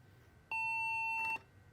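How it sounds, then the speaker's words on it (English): An older HP all-in-one PC with no RAM installed gives a power-on beep code: one steady electronic tone lasting just under a second, loud and clear against a quiet room. "Okay, and we have a beep code."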